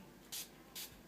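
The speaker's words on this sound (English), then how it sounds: "I'm going to go ahead and spray my Urban Decay's All Nighter" Urban Decay All Nighter setting spray sprays twice, two short bright hissing bursts spaced under a second apart, close and alone over a faint steady room hum from a fan.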